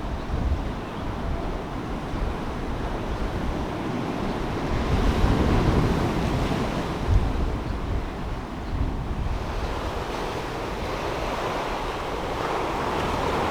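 Waves breaking on a rocky coastline beach near Puerto Escondido, Mexico, a continuous rushing surf with rising and falling swells, mixed with wind buffeting the microphone, and no voices.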